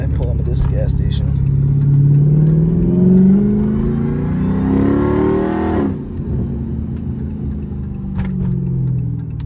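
A Dodge Hellcat's supercharged engine whines steadily as the car rolls into a gas station, the pitch rising gradually before cutting off sharply, with a low rumble continuing underneath and a voice talking over it.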